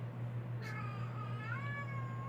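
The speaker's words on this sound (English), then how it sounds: "The kitty says hello." A house cat gives two drawn-out meows, the second rising at the end, fairly close but soft, over a steady low electrical hum in a quiet indoor room.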